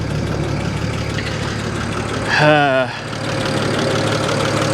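A car engine at a Copart auction idles with a steady, slightly rattly low hum close by, briefly overlaid by a short warbling vocal sound partway through.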